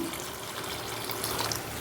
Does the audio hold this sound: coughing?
no